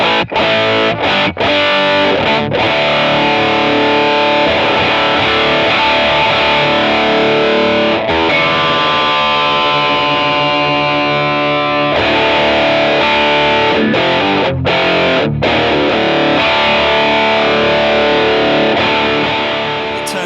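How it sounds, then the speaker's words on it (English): An electric guitar driven through a Greer Amps Lightspeed overdrive into a Hello Sailor Dual Rangemaster booster, playing loud, thick distorted chords and sustained notes continuously, close and with no talk. "This low gain, delicate overdrive sound into balls to the wall rock"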